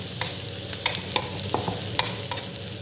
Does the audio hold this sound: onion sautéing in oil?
yes